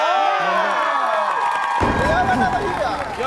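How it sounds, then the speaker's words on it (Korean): A television studio audience cheers and whoops loudly, and a dense crowd roar swells into clapping and excited shouts that keep up throughout. "박수를 부탁합니다."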